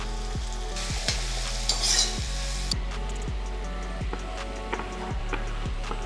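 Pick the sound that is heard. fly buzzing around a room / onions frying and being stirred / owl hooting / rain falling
onions frying and being stirred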